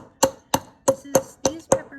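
Peppermint candies crushed in a bowl with the bottom of a cup, six sharp, evenly spaced crunching knocks over two seconds, close and fairly loud, with no talk.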